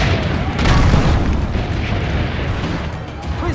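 Cannon fire in Assassin's Creed Brotherhood, a loud booming blast followed by rumbling, sustained battle noise.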